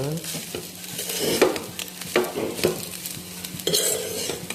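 Ajwain rice being stirred and mixed in a pan with a spoon, repeated scraping and tossing strokes over a soft ongoing sizzle, close and fairly steady with louder stirring bursts.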